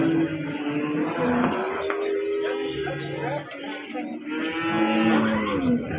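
Cattle moo repeatedly at a cow market, with a young breeding cow and her two-month-old bull calf among them, the long, low calls overlapping and rising above people talking nearby.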